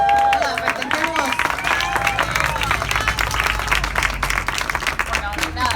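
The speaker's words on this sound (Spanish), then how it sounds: "Ese aplauso." Audience at a book presentation breaking into steady applause, dense continuous clapping from a crowd with a voice speaking over it.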